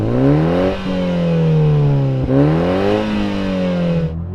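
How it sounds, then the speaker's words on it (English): A four-cylinder Toyota Supra engine revs hard up close, three strong climbing pulls, each dropping back briefly before rising again, loud and alone without talk. "I'm going to rev this thing up."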